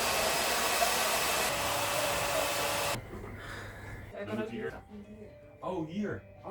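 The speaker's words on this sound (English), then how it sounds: "Try turning on the vacuum maybe" A loud, steady whooshing motor roar, like a vacuum cleaner, runs for about three seconds and then cuts out, followed by people talking.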